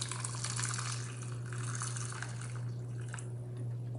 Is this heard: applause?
no